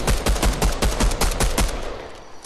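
Enemy gunfire in Fortnite: a rapid burst of about ten evenly spaced automatic shots, loud and close, stopping abruptly before a short quiet tail.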